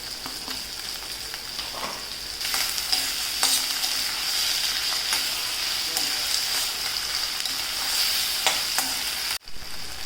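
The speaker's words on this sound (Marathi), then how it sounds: "कांदा आपण जरा शिजून घ्यायचा आहे टॉमॅटो घेतला एक" Onion and tomato fry in a pan for a cabbage and chana dal bhaji, a continuous close sizzle with scraping stirring strokes that grows a little louder after the start and stops sharply near the end.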